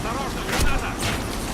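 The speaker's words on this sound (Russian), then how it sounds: "Осторожно, граната!" Grenade explosion in the Warface shooter video game: a short, loud, rumbling blast with a broad noisy burst, followed by a second wash of noise, all amid dense battle sound.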